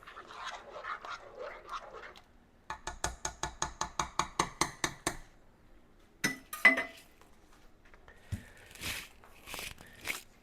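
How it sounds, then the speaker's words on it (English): A spoon stirs sugar into homemade tomato sauce in a pot, giving a quick, regular series of about a dozen metallic clinks, followed by a few scattered knocks and scrapes. "you're going to stir that in real good"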